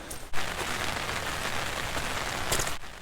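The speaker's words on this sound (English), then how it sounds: "It was a rainy day." Rain falls steadily at Yellowstone's Trout Lake, a dense, even hiss of drops on surfaces close by, with a sharp knock at the start and a brief spatter near the end.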